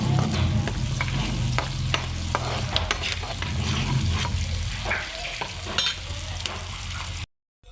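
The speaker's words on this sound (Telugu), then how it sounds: "ఇక ఇందులో పచ్చిమిర్చి, ఉల్లిపాయలు అవన్నీ వేసి మగ్గించుకోవాలి" Green chillies and onions sauté in a pan for a drumstick curry, sizzling steadily while a spoon stirs and scrapes with repeated clinks, before cutting off abruptly.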